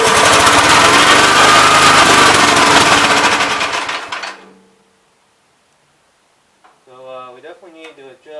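A 1971 Gravely C tractor engine runs loud and steady with a rough, buzzing clatter, then dies away and stops; after a stretch of silence, someone talks nearby.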